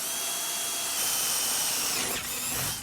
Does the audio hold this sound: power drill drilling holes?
yes